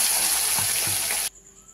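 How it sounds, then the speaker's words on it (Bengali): Salt-and-turmeric-coated fish fries in hot oil, a loud bright crackling sizzle with a couple of soft spatters that stops abruptly near the end, leaving quiet. "আমি এবার এক এক করে যে মাছে নুন হলুদ মাখিয়ে নিয়েছি, একটা একটা করে ভাজতে থাকবো।"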